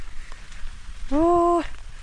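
Steady rain patters on a surface in rice fields in the background, with a brief tonal whine rising over it midway.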